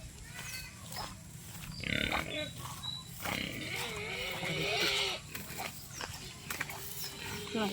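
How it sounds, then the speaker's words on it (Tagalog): A pig grunts and squeals repeatedly nearby, with other farm-animal noises and some human voices mixed in. "May baboy. Gutom na ang baboy."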